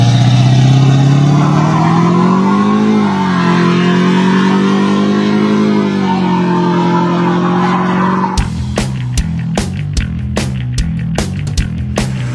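An old pickup truck fitted with an aftermarket performance exhaust accelerates at full throttle from 0 to 60, its loud droning engine climbing and shifting for about eight seconds before it cuts to sharp clicking sounds.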